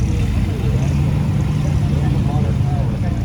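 A classic car at a car show gives off a low, steady engine rumble that runs continuously beneath someone talking nearby.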